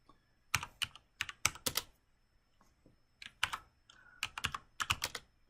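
Fingers tap out a command on a computer keyboard at a Windows 10 PowerShell prompt. Crisp, close keystrokes come in quick clusters with short pauses between them, and no one speaks.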